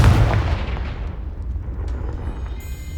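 A Confringo fire spell in Hogwarts Legacy detonates with one heavy, booming blast that rolls off into a long, fading rumble.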